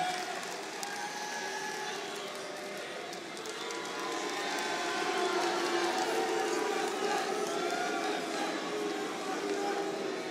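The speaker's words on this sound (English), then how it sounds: "The crowd appreciating this Cloud9 lineup that Jack has put together." Arena crowd at a CS:GO Major semifinal cheering and roaring steadily, a dense continuous wash of voices that swells louder partway through and carries on throughout.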